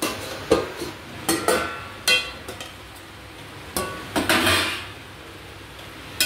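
A spoon scraping and knocking in a cooking pot of chingri loti, shrimp with taro stolons, on medium heat, then a lid clattering down, a series of close, sharp metallic clinks and clatters with pauses between.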